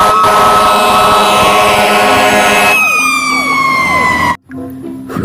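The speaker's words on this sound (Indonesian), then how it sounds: "ternyata ini pemadam kebakaran" A toy fire engine's electronic siren wails loudly and continuously, its pitch sweeping up and down before cutting out abruptly near the end and briefly restarting.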